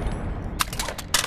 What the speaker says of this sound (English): now let's test out hip fire